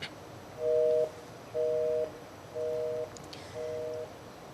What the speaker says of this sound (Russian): Абонент недоступен.